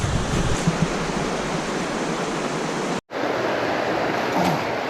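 Mountain creek water flows in a steady, full rushing wash close by, cutting out for an instant partway through before resuming unchanged, with no voices.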